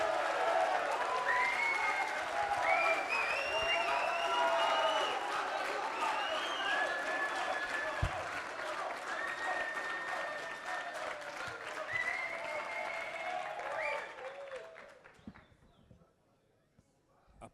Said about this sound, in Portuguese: Agora sim, um aplauso de todos,